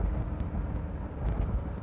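A 1957 Chevrolet Bel Air cruises with a low, steady exhaust rumble, a deep engine drone sounding close and continuous from inside the car.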